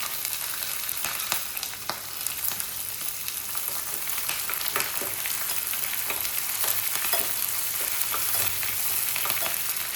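Ginger, onion and chilli sauté in a hot pan, giving a steady, dense sizzle with bright crackles and the occasional scrape of a stirring spoon that runs close and loud for the whole stretch.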